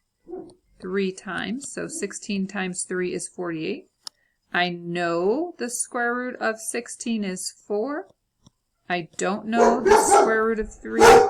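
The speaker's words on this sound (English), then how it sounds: "Sorry, that's my dog." A pet dog barks in the background of a home recording while a person talks steadily through an algebra lesson, with a few barks rising near the end under the voice.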